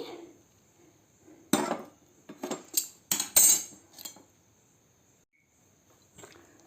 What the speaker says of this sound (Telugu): ఇందులో పోపు వేసి కొత్తిమీర కూడా వేసి కలుపుకున్నానండి